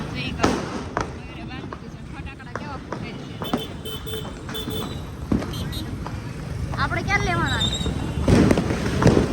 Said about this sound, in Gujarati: બધી જગ્યાએ ફટ ફટ ફટ ફટ ફૂટે